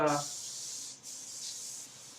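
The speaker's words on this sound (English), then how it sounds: "cooking spray" A steady hiss of cooking spray leaves a can at close range for about two seconds, just after a short burst of voice at the start.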